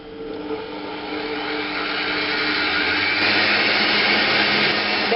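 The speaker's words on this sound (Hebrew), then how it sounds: "ולמיקסר, עם כמובן כף ההקצפה על מהירות גבוהה." An electric mixer with a whisk attachment whips egg whites at high speed for a maple cake, a steady loud whirring hum that grows slightly in strength over several seconds, with no talking.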